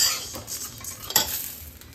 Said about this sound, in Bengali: আর ওইদিকে মা হলো শিমের গুটি, আর শিমের গুটিকে ভেজে দিচ্ছে।